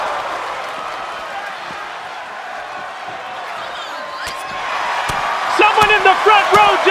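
Wrestling arena crowd at a women's match, a steady roar of cheering and shouts that builds louder toward the end, with sharp impacts and calls cutting through.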